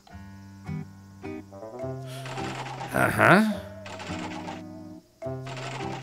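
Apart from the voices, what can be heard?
coins inserted into the crank machine in Yo-kai Watch 2 video game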